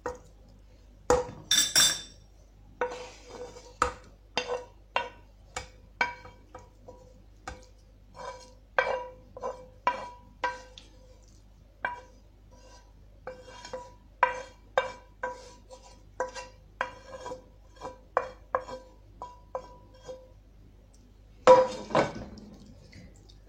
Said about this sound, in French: je mélange ma viande hachée